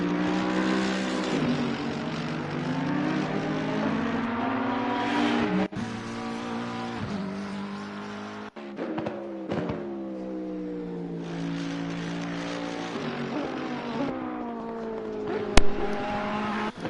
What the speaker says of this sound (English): urrently in pursuit is Mamster on their outlap here for the qualifying session at Zolder